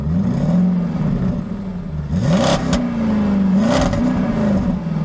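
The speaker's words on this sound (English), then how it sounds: "Did they have to rev up their engines or something?" A cartoon engine revs up and down repeatedly in a whirring, rising-and-falling pattern, loud and close, with a couple of sharp clattering bursts and no voices.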